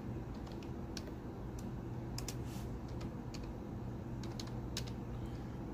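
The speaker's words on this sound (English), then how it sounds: "And just start typing stuff in." Typing on a computer keyboard, a steady patter of light key clicks against a constant low room hum, fairly faint, with no talk.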